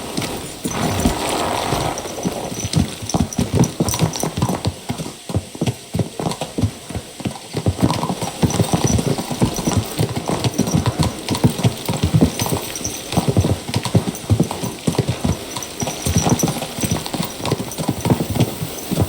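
Horses ridden out at a steady pace in Kingdom Come Deliverance 2, with dense, continuous clip-clop of many hooves close by over a low background bed, occasional faint whinnies, and no talking.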